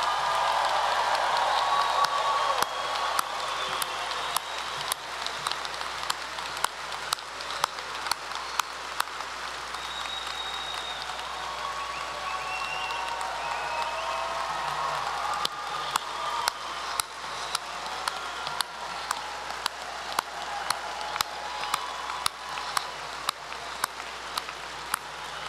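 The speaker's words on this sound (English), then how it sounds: "a round of applause for the graduates" Commencement crowd at a law school graduation applauding the LLM and JD graduates, a long, sustained sheet of clapping with sharp individual claps popping out near the microphone, steady and moderately loud.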